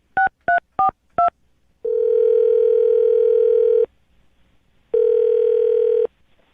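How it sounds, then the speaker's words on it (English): A telephone dials a number: four short touch-tone beeps in quick succession, then a long steady ringback tone, a pause, and a second ring tone, all clean and close with no voices. "I'm going to dial his phone number right now"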